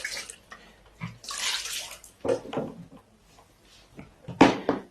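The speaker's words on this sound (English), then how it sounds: "Let me still wash my hands." Hands are washed under a running tap in a home kitchen during cooking, with close, irregular bursts of splashing water separated by brief quiet gaps.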